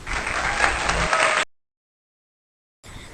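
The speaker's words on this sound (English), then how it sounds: "Let's welcome her with a big round of applause." An audience gives a big round of applause to welcome a presenter at a moderated group session, steady dense clapping for about a second and a half before cutting off abruptly, then resuming briefly.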